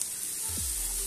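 Ginger dropped into hot oil in a pan while making chole bhature, a brief soft sizzle and crackle close by with no talk.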